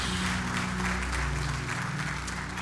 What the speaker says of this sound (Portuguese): E aplauda mais uma vez, pela última vez ao Senhor.